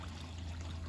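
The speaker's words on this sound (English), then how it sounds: "it's bubbling away a lot better now. Getting more air in there with the both stones" Two air stones bubbling in pond water, a constant low gurgling fizz with a steady hum underneath, close and moderately quiet.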